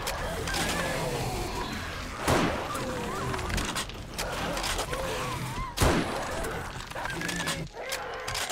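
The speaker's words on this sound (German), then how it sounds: "Der letzte Schuss." Gunfire from the zombie-survival video game 7 Days to Die during a horde night, with two sharp loud shots standing out against a dense, busy backdrop of game noise.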